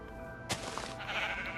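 A single short sheep bleat from Minecraft PS4 Legacy Edition, fairly faint and heard alone over a low game background.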